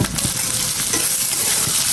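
Onions, chillies and vegetables sizzle and spit loudly in a hot pan, with a few stirring scrapes near the start.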